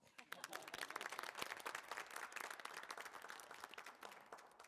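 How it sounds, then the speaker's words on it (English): Soft, distant audience applause greets a speaker at a residency event, a dense, even patter of many hands that swells and then tapers over several seconds. "You may applaud"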